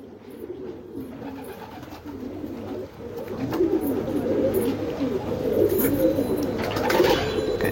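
Racing pigeons of Canadian and Taiwan lines coo repeatedly up close in their loft, with the soft, throaty calls overlapping and growing busier toward the end.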